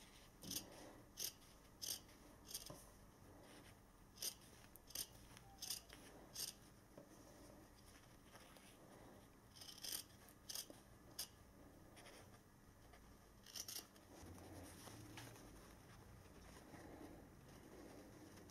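Scissors snip excess fabric from a pressed French seam, a series of close, crisp cutting clicks in irregular bursts over a faint background with soft shuffling of cloth.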